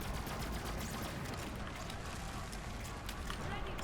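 Sustained rapid gunfire from an Amara build in a looter-shooter video game, a dense crackling fusillade running throughout with a voice talking faintly underneath.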